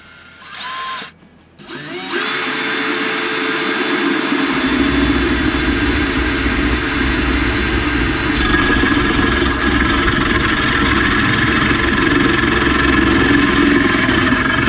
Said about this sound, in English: I'm breaking out my new drill bit set.